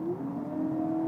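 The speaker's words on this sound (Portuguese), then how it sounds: "Eu vou reduzir 60 e vou acelerar até 120" A 2023 Honda Civic hybrid accelerating hard from 60 km/h, a smooth rising engine and motor drone with steady tonal whine heard from inside the cabin, no talking.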